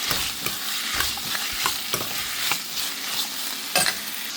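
Ivy gourd pieces fried with a pinch of turmeric, stirred in a pan: steady close sizzle broken by repeated scraping strokes of the spoon, with no talking.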